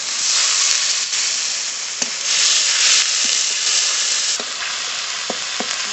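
Spice paste of ground mustard and poppy seed sizzles and hisses steadily in hot oil, with occasional stirring clicks and scrapes, close and loud with no voices over it.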